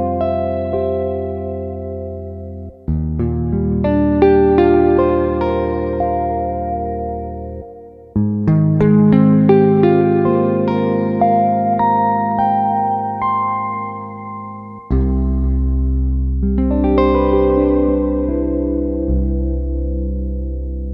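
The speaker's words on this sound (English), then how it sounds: "I'm gonna make the reverb like pretty long with a lot of pre-delay. And I'm gonna make it a bit more wet." A Soundpaint sample synthesizer holds long sustained chords through a long, wet reverb with heavy pre-delay, three swelling sections with lingering tails, close and alone.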